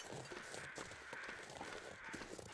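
A short burst of crows cawing in the survival game The Long Dark, a continuous layer of harsh calls at steady moderate loudness.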